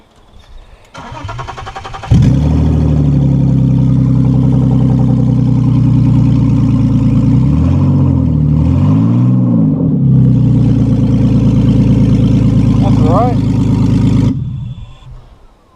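A BMW Z3 engine with its exhaust removed cranks and fires, then runs loud and raw with a harsh, unmuffled drone, revving a couple of times before cutting off.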